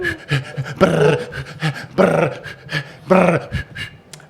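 A dog plays with a door stopper close by, making about four loud, short bursts of rattling, twangy noise mixed with the animal's growly breathing.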